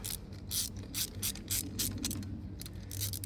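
A ratchet tightens hardware on a Ford F150 tail light bracket, with quick bursts of clicking strokes repeating in an uneven rhythm, close and moderately loud, with no talking.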